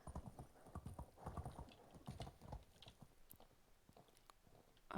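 Hooves of a ridden horse in Medieval Dynasty, a quick rhythmic clip-clop that fades slightly in its last second, close and clear with no talking.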